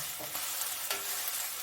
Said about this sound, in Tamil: கொஞ்சம் வெங்காயம் நல்லா வதங்கட்டும்.